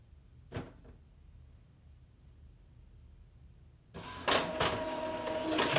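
An Epson EcoTank ET-2400 printer starts up after a quiet stretch, then loudly whirs and clacks as it pulls in paper and prints a nozzle-check page, with a brief mechanical knock early on.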